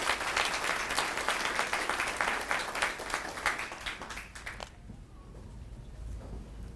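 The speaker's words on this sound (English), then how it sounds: "Please give me a round of applause." A crowd at an award ceremony applauds with dense, steady clapping for about four and a half seconds before it cuts off, leaving a quiet room.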